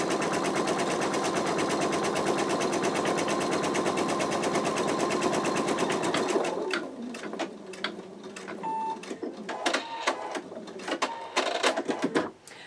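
An embroidery machine stitches out an in-the-hoop wallet with a dense, rapid mechanical chatter for about six seconds, then shifts to sparser, irregular clicks and taps as the stitching slows toward the end.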